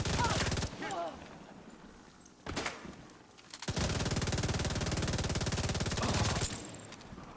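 Bursts of semi-automatic rifle fire in a video game crack out in rapid, evenly spaced volleys, with a short burst, a pause, then a long sustained string of shots.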